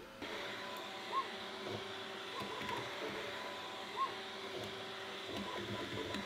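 A Bambu Lab A1 3D printer lays down the first layer of generic PLA filament, giving a steady motor hum and whir with faint periodic ticks, close and continuous with no voices.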